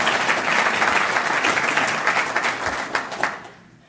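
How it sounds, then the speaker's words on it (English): A dense, steady wash of applause from an audience at a sober-living gathering with a faith theme, loud and sustained before thinning into a few scattered claps and fading out. "You can clap."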